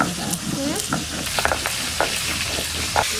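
Magur catfish fries in spiced oil in a pan for Bengali village-style cooking. A loud, continuous sizzle has occasional sharper spatters and stirring sounds, and no one speaks.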